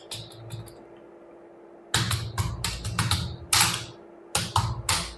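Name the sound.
typing a header on a computer keyboard in MS Word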